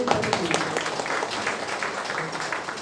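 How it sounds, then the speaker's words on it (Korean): An audience applauds a lecturer, a National Assembly member, after a political academy talk, with steady moderate clapping filling the room for a few seconds. "다시 한번 멋진 강연 해주신 의원님께 다시 한번 큰 박수 부탁드립니다"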